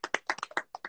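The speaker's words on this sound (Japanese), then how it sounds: "ちょっと2万人拍手だよ。" A few hands clapping in quick, uneven bursts, close and distinct, during a casual Instagram live session, about nine sharp claps in one second.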